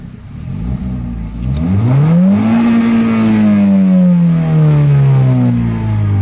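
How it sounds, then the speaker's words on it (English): A 2015 Hyundai Veloster, a very small car with its dual exhaust mufflers in the middle, revs up close: the engine note climbs steeply, holds high, then slowly sags, loud and continuous with no talking. "I'm gonna rev it."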